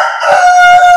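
A rooster crows loudly and close by as it is being weighed on a scale, one long sustained cock-a-doodle-doo that fills the whole moment without any speech over it.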